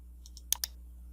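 Two soft clicks, then two sharper mouse clicks in quick succession as OK is clicked in PowerPoint, close and isolated over a faint electrical hum.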